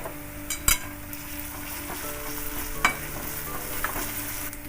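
Ginger paste hits hot oil with garlic paste in a pan and fries with a steady low sizzle, broken by a few sharp scrapes and clinks of a stirring spoon, alone and without talk.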